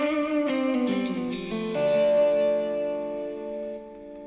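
An electric guitar played through Kemper and Helix units with reverb switched off rings out a few distorted chords and notes, close and dry, sustaining and slowly fading.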